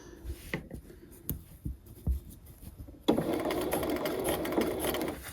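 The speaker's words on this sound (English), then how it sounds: "We're going to sew a couple of stitches." Sewing machine stitching an invisible zipper, a few short separate clicks of single stitches at first, then a steady, loud continuous whir of running stitches for the last couple of seconds, close up with no talking.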